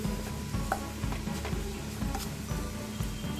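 Spice masala for kadai paneer fries on a high flame in a pan, with a continuous sizzle under regular, rhythmic stirring scrapes about twice a second and no voices.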